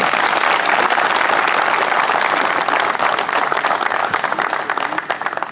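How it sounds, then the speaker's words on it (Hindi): Loud, sustained applause from a large audience at a CRPF Day cultural programme held by a CRPF battalion, dense clapping that carries on steadily and thins slightly toward the end. "जोरदार तालियां"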